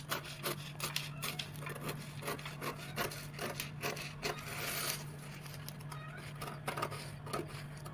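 Scissors cut through a paper sewing pattern while drafting a plus-size princess-cut bustier, making a run of close, soft rasping snips that repeat irregularly across the whole stretch with a steady low hum underneath.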